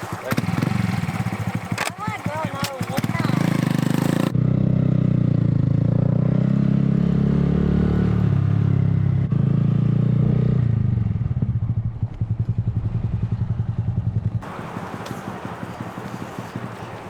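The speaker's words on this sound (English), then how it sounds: "I'm gonna take the Grom off and ride it over." Honda Grom motorcycle being ridden, its small engine droning steadily under wind noise, with a person talking at the start and end.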